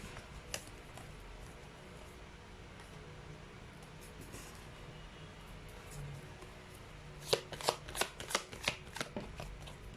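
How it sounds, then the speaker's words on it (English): Tarot cards riffle and snap in a quick burst of shuffling near the end, after a stretch of quiet room tone with a few faint clicks, close and fairly clear. "let's try to pull up another set of cards"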